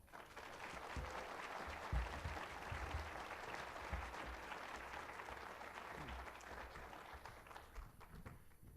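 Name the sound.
audience applause welcoming the chancellor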